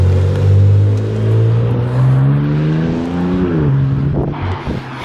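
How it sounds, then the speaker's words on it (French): A car engine revs loudly and close by, its pitch climbing in a long sustained surge, dipping briefly, then rising again before easing off. "Regarde qu'est-ce qu'elle est belle, cette voiture"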